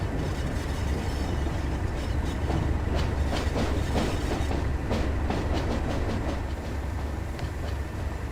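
A Class 37 diesel locomotive rolling along with the throttle at idle in Train Sim World 3, giving a continuous dense rumble and rail noise with faint rhythmic wheel clicks over the joints, loud and steady without voices.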